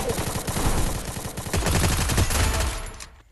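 Rapid gunfire bursts from a shooting video game match, dense and loud, with a short pause before another sustained volley of shots that fades out at the end.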